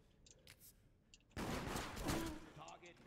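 Rapid burst of gunfire in the video game Deceit, a loud sustained volley that erupts suddenly and rattles on for well over a second above quieter game sounds, with speech around it.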